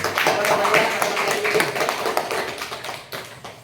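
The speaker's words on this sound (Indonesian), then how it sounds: "untuk yang kelompok ini kelas ini kita beri aplaus dulu seluruhnya" A classroom group claps together, a dense burst of hand claps that tapers off over a few seconds, with voices mixed in.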